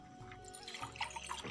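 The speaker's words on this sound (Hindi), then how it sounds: "पानी डालना पड़ेगा गाइस पानी।" Water poured into a vessel during a traditional village meal, a short splashy trickle with faint dripping, close and fairly quiet, with no talk over it.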